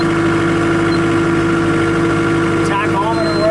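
A 1998 New Holland LX665 rubber-tire diesel skid steer loader idles up close with a steady, even drone and a strong constant hum, while a voice talks over it.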